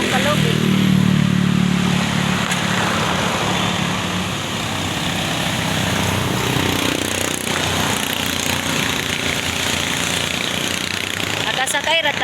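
A motorcycle ride on a motor, with a steady, loud engine drone and rushing wind noise sustained throughout, and a voice talking over it.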